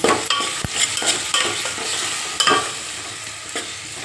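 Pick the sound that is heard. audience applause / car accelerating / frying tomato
frying tomato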